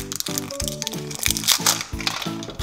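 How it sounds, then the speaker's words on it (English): LOL Surprise Pets glitter sand packaging being unwrapped, a close, continuous plastic crinkling with repeated crackly pulls and crunches, fairly loud and busy throughout. "Unwrap it, it's in a pink container that says LOL."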